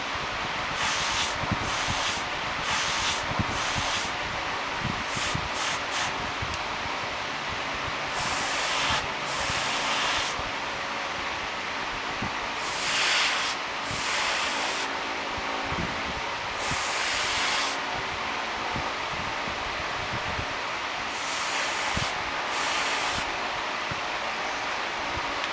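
A Copic airbrush sprays paint in repeated bursts of airy hiss, each lasting about a second or two with short pauses between them, close and fairly loud over a low background hum.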